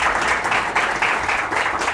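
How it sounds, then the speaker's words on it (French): A studio audience at a televised youth football talent show breaks into loud, dense applause, many hands clapping together in a sustained roar that holds steady for the full two seconds. "Applaudissez très fort pour vous."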